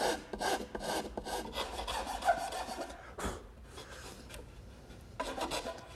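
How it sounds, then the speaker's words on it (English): A hand rasp files across a wooden dovetail joint on a Shaker washstand, close and rhythmic, with bursts of scraping strokes separated by short pauses. "So I'm going to even those out using my rasp."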